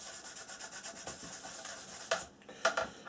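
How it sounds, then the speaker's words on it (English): Close, soft rubbing strokes polish newly scribed panel lines on a Globemaster III model aircraft, a quick rhythmic back-and-forth that breaks off near the end before a couple of sharper scuffs. "Let's give it a little bit of a polish."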